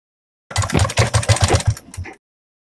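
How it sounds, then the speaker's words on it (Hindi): Sewing machine stitching along both edges of a 1.5-inch blouse strip for a boat neck blouse, a short, close, steady run of rhythmic mechanical thumps lasting under two seconds. "दोनों किनारे पे हमें सिलाई कर लेना है।"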